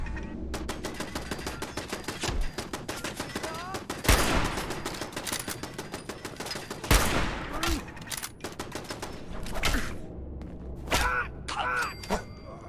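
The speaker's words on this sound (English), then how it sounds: "Alright, that's a turret over there." Turret gunfire in Fallout 4 rattles off in long rapid bursts of sharp repeated shots, with heavier blasts and brief pauses between volleys, mostly alone at moderate loudness.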